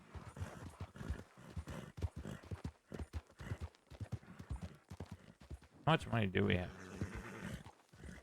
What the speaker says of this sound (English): Stop the horse, stop the horse,